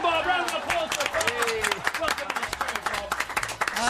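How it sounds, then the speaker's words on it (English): Studio audience applause and cheering for Bob Odenkirk arriving on a morning radio show, dense clapping with voices chattering and calling out over it, near and lively. "Round of applause for Bob."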